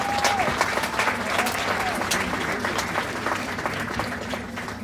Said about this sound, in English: Can we get another round of applause for our seniors tonight?